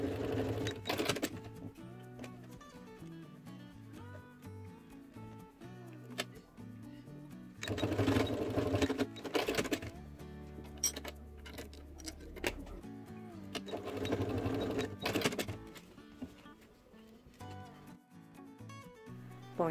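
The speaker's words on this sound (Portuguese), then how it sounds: "vou sobrepor aqui sobre o início e passar a costura reta" A home sewing machine runs a straight seam over bias binding on a fabric organizer with clear pockets, whirring in bursts of a few seconds separated by pauses, close and steady under soft background music.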